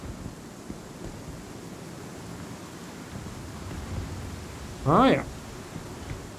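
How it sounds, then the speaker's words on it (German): Strong wind blows outdoors in Star Citizen, a steady broadband rushing roar that continues unbroken, with someone briefly speaking a short interjection near the end. "Ist auch schon wieder maximal windig hier draußen."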